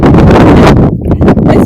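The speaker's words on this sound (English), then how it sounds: "It's very windy out here today, man." Strong wind blowing outdoors on a very windy day, loud buffeting gusts roaring against the microphone, then dropping briefly before surging again.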